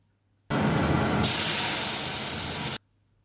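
Ground spice paste hits hot oil already tempered with cumin and bay leaf, for a Bengali fish curry. It bursts into a loud, steady hissing sizzle that brightens partway through, then cuts off abruptly after about two seconds.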